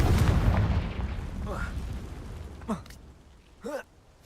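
A Confringo fire spell in the video game Hogwarts Legacy goes off as a loud, booming blast with a rumbling tail, followed by a couple of brief whooshing spell effects.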